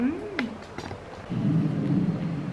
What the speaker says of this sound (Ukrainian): Ви знали, що я боюсь грому?